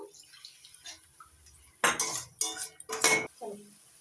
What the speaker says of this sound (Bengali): জল দিয়ে দিচ্ছি হাফ চামচ হলুদ অল্প অল্প জল দিয়ে মশলাটা কষিয়ে নেব